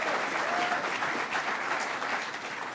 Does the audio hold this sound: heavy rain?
no